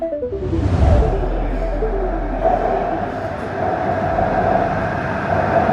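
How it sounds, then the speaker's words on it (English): A subway train in Shenzhen rolls along, its low rumble and rising whine of traction motors building over the first second, then settling into a steady loud roar with rhythmic rattling of the carriage. "I'm taking the subway to Matishan village."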